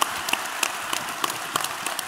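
An audience at an on-stage talk at a convention claps briefly, a thin patter of individual claps fading out over about two seconds.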